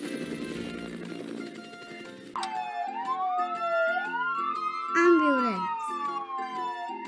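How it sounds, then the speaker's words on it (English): A toy siren wails in rising and falling sweeps, loud and close, with a second electronic tone chiming in midway over a steady background beat. "Ambulance."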